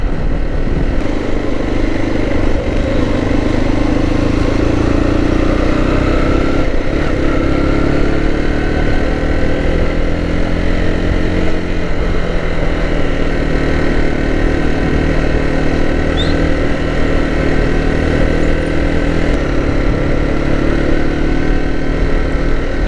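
A vehicle engine running steadily on a Sahara desert road, loud and close, with a continuous low rumble and slowly shifting pitch as the speed changes, and no pauses throughout.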